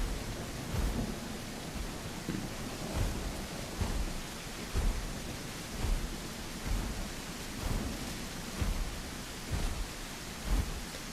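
Rain falls in a dinosaur survival video game, a steady wash of hiss with soft low thumps rolling in at a regular pulse about once a second, with no voices.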